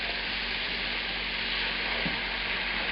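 Soaked mushrooms, flat-surfaced ones with lemon juice, frying in a pan on fairly high heat, a steady, close, hissing sizzle that stays even throughout with no talking.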